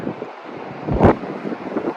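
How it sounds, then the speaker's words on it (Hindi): Cold mountain wind buffets the microphone beside the Spiti and Sutlej rivers on the way toward Sangla Valley, a steady rushing roar with one strong gust midway, no talk. "बहुत ठंडी हवा चल रही है"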